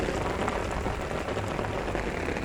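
Heavy rain pours down outdoors in a steady, dense hiss with no break, close and full, while someone walks to a store through the downpour.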